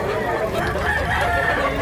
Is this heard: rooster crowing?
yes